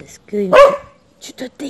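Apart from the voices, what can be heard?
dog barking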